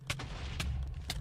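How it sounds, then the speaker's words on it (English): Explosions in the Minecraft Lucky Block mod: three sharp booming bursts at roughly half-second intervals over a steady low rumble, loud and close. "There's explosions everywhere."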